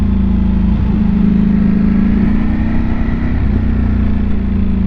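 A Ducati Panigale V4 superbike rated at 215 bhp is ridden at speed, its engine a loud, steady, close drone with a constant low hum and rushing wind noise, no talking.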